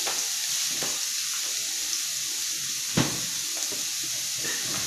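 Fried garlic and onion sautéing in a pan as the base for creamy pasta carbonara, giving a steady, soft sizzle with a few faint clinks of a utensil and no talking.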